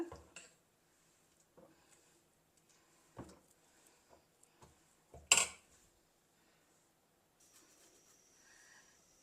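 A metal dosa tava is set down on a kitchen stove for adai dosa. Scattered light clanks and taps sound close by, with one sharper metallic knock midway and quiet gaps between.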